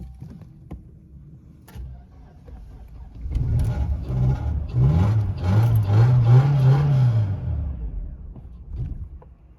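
A Mercedes 220CE W124 coupe engine cranks slowly after standing for a while, a labored rising whir from the starter lasting several seconds before fading, heard close and loud.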